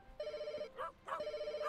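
A telephone rings in a pet hotel management game, two clear electronic ring bursts with a short gap between them, close and alone with no talking.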